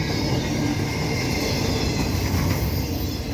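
A CP freight stack train of low-profile well cars rolls past Dorval Station, a loud, steady rumble and rattle of wheels on rails that holds close and continuous throughout.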